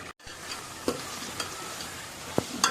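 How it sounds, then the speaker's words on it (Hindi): Potatoes and spices fry in a pan with a soft, steady sizzle, broken by a few faint clicks and light stirring taps, close and quiet with no talking. "अभी इसको भूनने देते हैं।"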